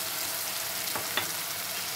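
A spice masala with black pepper and turmeric fries in a pan, giving a loud, close, steady sizzle with a couple of brief stirring scrapes partway through and no talking.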